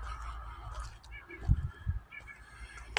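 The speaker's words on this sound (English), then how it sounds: "Birds are out." Outdoors along the Housatonic River trail, a few birds honk and call at a distance, with soft outdoor ambience in between and a couple of louder low bursts near the middle.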